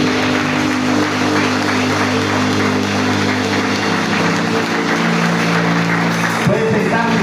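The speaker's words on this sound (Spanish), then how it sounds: "Puede aplaudir al Señor." A church congregation applauds during a service, the clapping mixed with sustained music that holds steady before dropping off near the end.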